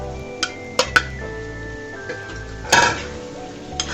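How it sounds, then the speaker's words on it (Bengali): Small chewa fish dropped into tomato masala frying in a pan, with a steady sizzle, a few sharp metallic clinks and a louder burst of spattering near the end. "এবার যে আমি মাছগুলো দিয়ে দিলাম"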